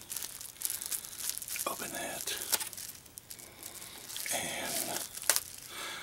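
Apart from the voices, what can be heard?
gift package wrapping being opened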